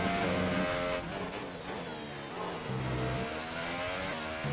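A race car engine in a racing sim at Interlagos climbs through the revs, dropping pitch at gear changes before climbing again, loud and continuous with no voices.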